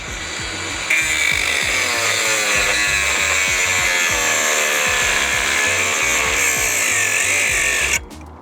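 An angle grinder cuts through a Hiplok DX1000 bike lock with a loud, steady, piercing metal-on-metal screech that starts abruptly and holds for about seven seconds before cutting off, no talking.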